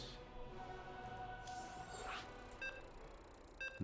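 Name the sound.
beeping ready signal in StarCraft 2 video game lobby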